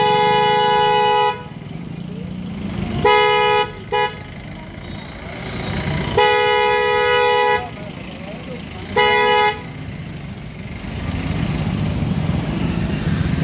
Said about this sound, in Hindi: मुझे भी जाना है इसलिए हटाना तो पड़ेगा, हॉर्न बजाना पड़ेगा बस।